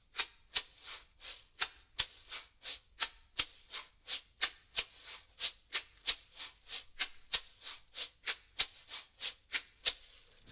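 A shaker is played in a repeating four-stroke pattern, a loud first stroke, two softer ones, then a loud fourth. The crisp rattling swishes come in an even, quick rhythm with no one talking.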